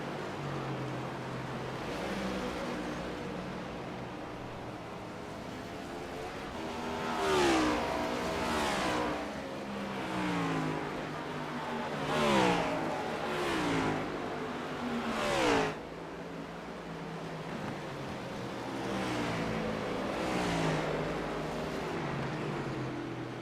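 Next Gen Cup race car engines in a racing video game at Phoenix, a steady droning roar with several rising and falling revs as cars pass through the corners, sounding continuous and moderately loud throughout.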